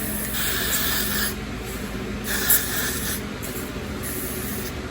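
Got To Be glue spray misted onto wig baby hairs, a few short hissing bursts from the can, close and fairly soft, separated by brief pauses.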